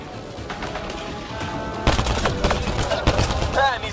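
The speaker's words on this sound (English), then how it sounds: "Just keep firing!" Weapons fire in a firefight in Mass Effect Andromeda, with sharp gunshot bursts and rapid volleys starting about halfway through, laid over a low rumbling background and a brief warbling electronic tone near the end.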